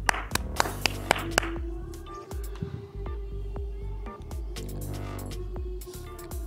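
Hands clap repeatedly to set off a phone-finder app, sharp close claps in quick bursts with pauses, over a faint steady tone and light background noise.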